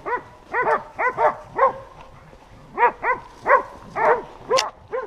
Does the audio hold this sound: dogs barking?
yes